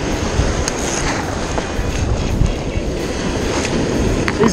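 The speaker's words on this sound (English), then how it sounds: "These waves are legit as tall as me when they crest." Big ocean waves cresting around a boat out on the Gulf, roughly as tall as a person, give a loud, steady roar of wind and rushing water with no speech.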